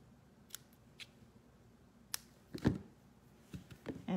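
Scissors trim scrapbook paper for a Halloween harvest page: a few faint, isolated snips early on, then a louder cluster of close crunchy cuts near the middle and a quick flurry at the end, with no talking.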